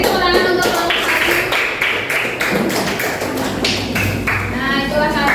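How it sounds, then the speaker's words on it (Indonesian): Schoolchildren in an Indonesian classroom clap for a group presentation, a quick patter of hand claps running under a teacher's voice. "Beri tepuk tangan untuk kelompok salju."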